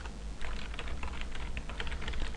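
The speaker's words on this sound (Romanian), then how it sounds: "Mai deschidem un nou tab și tastăm adresa site-ului" Rapid typing on a computer keyboard while entering a website address, a dense close patter of key clicks with a low hum underneath and no speech.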